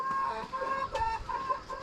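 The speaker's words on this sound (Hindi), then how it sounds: "कुछ गांव के लोगों ने मुर्गी पालन भी कर रखा है यहाँ पे" Chickens at a small village poultry farm in the hills of Borgaon, Pauri Garhwal, cluck and call repeatedly at close range in a busy, overlapping chatter with no talking.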